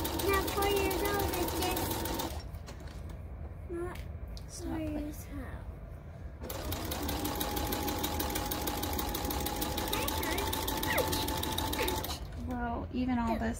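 A sewing machine fitted with a walking foot stitches baby blanket fabric, running steadily close by in two long stretches separated by a short pause, with a person talking over it.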